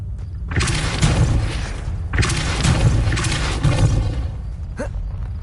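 Depulso force spell cast repeatedly in the video game Hogwarts Legacy, two loud booming, roaring bursts in succession with a faint trailing hit at the end, no talk.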